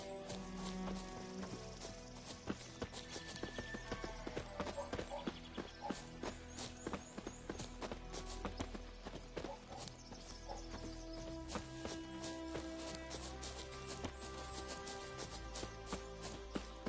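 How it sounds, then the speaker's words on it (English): Heavy footsteps of a character in a video game, a dense run of quiet thudding steps that keeps up a busy, uneven rhythm throughout. "He's got some loud ass footsteps though"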